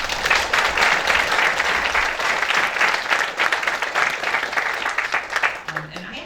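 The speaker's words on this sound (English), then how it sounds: "give them all another round of applause" An audience at an evening author event gives sustained, dense applause that stays strong for about six seconds, with a voice briefly heard near the end.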